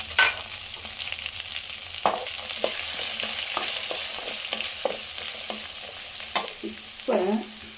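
Onion and chopped carrot sizzle steadily in a hot pan while a utensil stirs and scrapes them at intervals; no one speaks.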